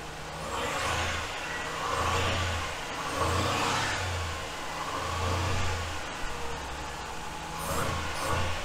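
A 1972 Range Rover engine runs with its throttle hanging open and the choke pulled out, giving a steady mid-pitched drone that swells and eases in slow cycles, with no talking.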